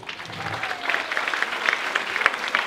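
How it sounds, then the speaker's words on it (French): An audience applauds at the start of a magic and mentalism show, with close, lively clapping building quickly and staying steady, individual sharp claps standing out against the crowd. "Applaudissements."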